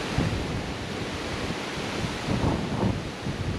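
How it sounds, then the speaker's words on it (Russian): Crazy storm wind bends and breaks trees by the water at an autumn fishing spot, a heavy, gusting roar pounding the microphone with surf-like surges, loud and continuous, no talking. "Сумасшедший ветер, смотрите."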